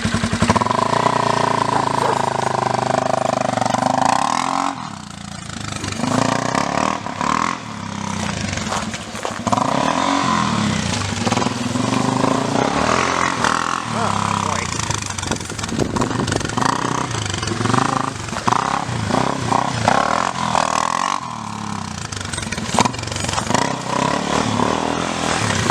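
A Raptor ATV engine runs and revs while being ridden, rising and falling in pitch with throttle changes, loud and close, with a brief dip before climbing again.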